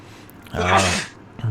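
A single sharp sneeze bursts out close by, loud and brief, with a quick intake before it and quiet around it.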